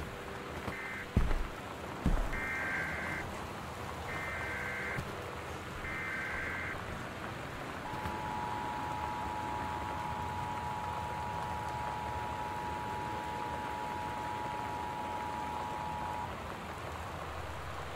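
Steady torrential rain hisses throughout a stormy scene in the game Gone Home, with a few short electronic beeps and a long sustained tone over the continuous downpour.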